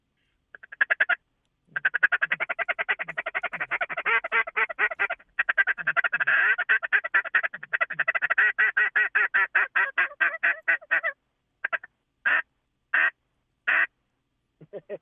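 A hunter's duck call imitates a feed call, sounding rapid, close, loud runs of raspy quacks with brief pauses, then slowing to a few spaced single quacks at the end.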